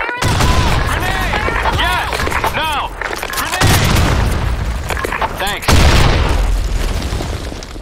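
Grenade blasts and heavy gunfire in the online shooter Blackshot on the Sand Storm II map: several loud booming explosions with rattling shots between them, amid game voice callouts.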